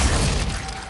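A Glacius ice spell shattering in Hogwarts Legacy, a loud, dense crackling burst of breaking ice that fills under a second and fades slightly toward the end.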